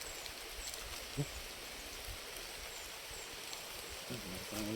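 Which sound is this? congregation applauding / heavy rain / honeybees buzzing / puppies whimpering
heavy rain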